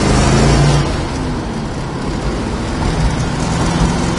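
A 1970 Plymouth Cuda's engine roars loudly as the car accelerates, the note easing briefly near the start as if between gears, then pulling steadily onward with continuous road noise.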